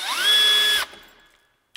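A drill driver whines briefly as it drives a Kreg Jig pocket-hole screw into timber for a staircase. The motor rises in pitch, holds, then cuts off with a short click at the end.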